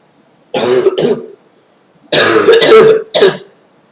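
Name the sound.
coughing and throat clearing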